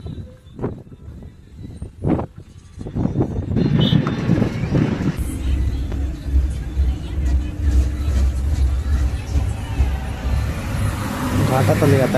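A bus on the Kolhapur to Ratnagiri route enters a mountain ghat road, its engine and road rumble rising from a few knocks into a steady low drone with wind noise, heard from inside the cabin.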